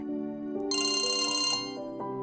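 A telephone ringtone plays clearly in an indoor domestic scene, a bright electronic melodic ring sounding alone over about two seconds with shifting tones and a steady, moderately loud level.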